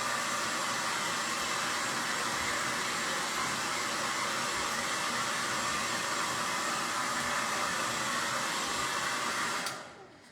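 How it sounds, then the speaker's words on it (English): A blow dryer whirs steadily at close range while drying a serving tray, a loud constant airy roar for about ten seconds before cutting off abruptly. "We're gonna hit it with the blow dryer real quick one more time"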